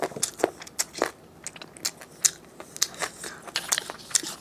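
Someone chews a chicken bone with marrow at close range, irregular crunchy bites and crackles spaced over several seconds, moderately quiet with no talking.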